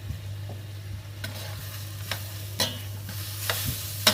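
Meat frying in a pan for a weeknight dinner, a soft steady sizzle under a low hum, broken by a few light scrapes and taps as it is stirred around, close and quiet, no talking.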